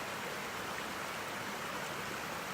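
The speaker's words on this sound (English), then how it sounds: "Check out the waterfall." Waterfall beside the Appalachian Trail in Virginia's Three Ridges area, a steady, full broadband rush of falling water running unbroken throughout, fairly close and loud with no voices.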